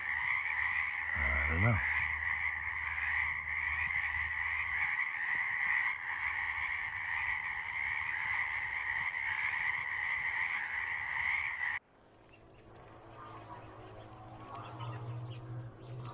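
Frogs croak in a dense, continuous chorus out in the Ashland, Oregon watershed on a warm late-January day, joined by a few bird chirps, with a brief spoken remark partway through.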